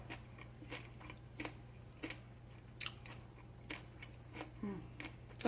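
Crunchy cabbage slaw in a fish taco is bitten and chewed close to the mic, giving faint, irregular crunches over a low steady hum.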